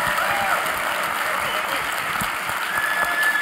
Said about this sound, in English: make a lot of noise, be the loudest, stamp the feet, screaming, clapping the hand